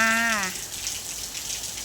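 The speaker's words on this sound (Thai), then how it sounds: "ฝนตกแล้วจ้า" Afternoon rain falling at a house in Thailand: a steady, dense hiss of drops that continues evenly after a brief voice at the start.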